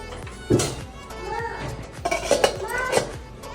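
Sorghum grains roasting and popping in a covered pan, with scattered clinks and rattles of kernels against metal while someone talks over them.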